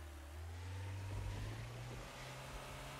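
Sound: car driving off, from video game Trader Life Simulator

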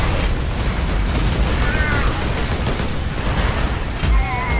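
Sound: pistol gunfire in the video game Space Marine

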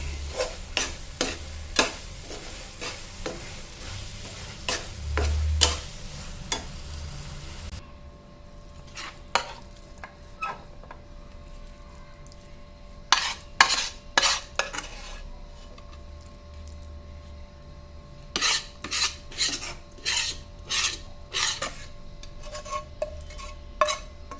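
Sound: stirring pumpkin halwa in a pan

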